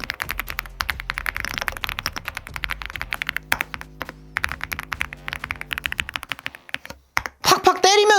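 Rapid clacking of mechanical keyboard keys with brown switches, close and crisp, with a low hum underneath and a short burst of speech near the end.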